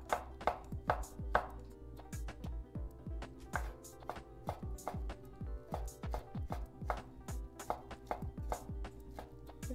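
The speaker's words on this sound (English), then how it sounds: "Give them fine chops like this." Soaked mushrooms being finely chopped by hand with a knife on a cutting board, a steady run of close, crisp blade taps at an even rhythm, with no talk over them.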